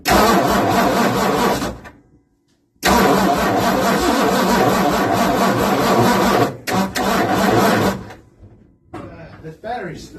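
A 1960 Ford Sunliner engine cranks and fires, running loud and steady for a couple of seconds, cutting out, then restarting and running again before stalling with sputters near the end.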